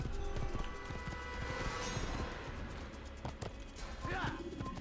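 Horse hooves clip-clopping in Assassin's Creed, a steady rhythm of close hoofbeats mixed with game sounds and a brief whinny-like cry near the end.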